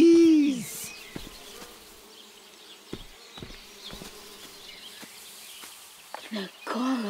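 Bees in the video game Viewfinder buzz and drone near and distinctly, rising and falling in pitch, with soft clicks and a brief voice over the hum.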